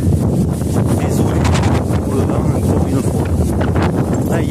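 Strong wind buffets a microphone on a boom pole in a heavy, continuous low roar and rumble lasting the whole stretch, with no clear voice over it.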